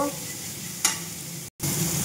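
Paneer fries in a little oil with salt and turmeric, a soft steady sizzle with a brief stirring scrape partway through and a momentary break before the frying hiss resumes.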